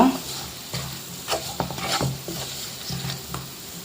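Spices and pepper powder are sautéed for a Kerala-style potato fry, with a steady close sizzle broken by several scraping stirs of a spoon against the pan.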